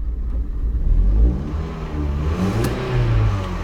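A stationary car's engine revved once, climbing to a loud, rising whine before easing back toward idle, close and clear with no voices.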